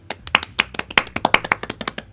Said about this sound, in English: The proper applause.